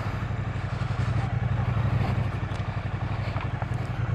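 Triumph Street Cup cafe racer motorcycle ridden at low speed, with a steady low engine drone and faint mechanical clatter running continuously throughout, loud and close with no talking.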